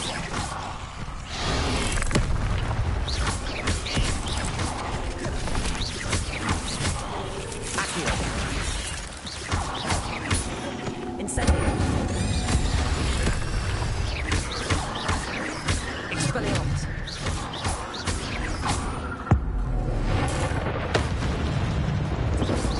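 Incendio fire spell blasts in the Hogwarts wizarding video game, repeated bursty whooshes and crackling impacts over busy combat noise, loud and dense throughout, with voices speaking in places.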